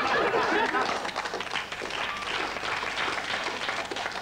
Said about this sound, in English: Thank you for your delicious applause, ladies and gentlemen.